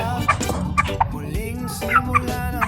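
Chickens make short, bright clucks and gobbling calls in quick, scattered bursts. They are close by and loud over a low background murmur.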